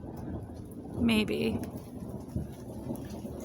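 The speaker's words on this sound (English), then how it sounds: "this is a thunderstorm" A thunderstorm in Edmonton, Alberta, with steady rain and a thunder rumble, heard outdoors under a brief burst of people talking.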